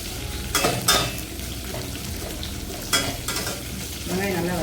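Chopped big onions sauté in oil in a pan for a sambar, giving a steady close sizzle with a few sharp stirring scrapes and clinks of a spoon against the pan.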